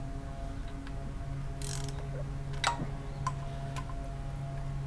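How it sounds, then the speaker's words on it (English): A hand ratchet wrench snugs bolts down before final torquing, giving a steady close mechanical grind broken by a few sharp ratcheting clicks and bursts, with no talking. "just get a normal ratchet or wrench to get everything snugged down before you start trying to put any torque on it"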